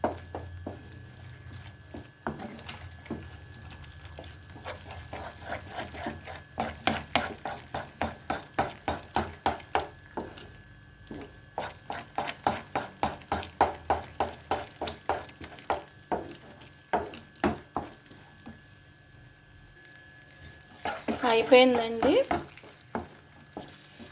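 A spoon stirs thick Karachi halwa in a pot, making a steady series of sticky, rhythmic scraping strokes up close, with someone speaking briefly near the end.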